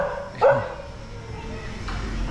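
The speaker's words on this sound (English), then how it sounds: "I don't care about dogs, but he scared me when he started to bark." A dog at a small lakeside market in Indonesia gives one sudden close bark, with another fainter yelp-like sound later over background murmur.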